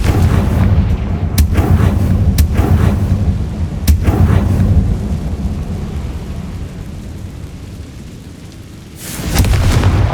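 Booming Confringo blasting-curse explosions from the Hogwarts Legacy video game on PS5 go off in a rough series, several deep blasts with sharp cracks rolling into a rumbling tail, then a fresh burst near the end.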